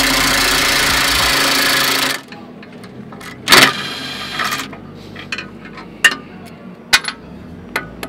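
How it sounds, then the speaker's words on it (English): A battery-powered impact gun hammers a bolt out of the side cutter on a JCB and Kubota style excavator bucket: a loud, dense rattling burst for about two seconds, followed by scattered metallic clicks and clanks. "I'm going to repeat the process with a socket underneath and the impact gun on the top."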